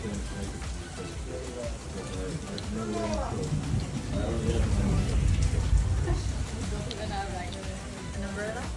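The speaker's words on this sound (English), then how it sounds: "Just a little bit of rain." Steady light rain patters continuously on Koh Tao, Thailand, with people talking over it throughout.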